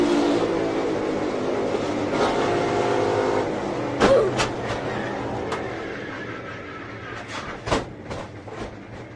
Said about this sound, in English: In what has got to be the worst crash since Ryan Newman's Daytona 500 flip in 2020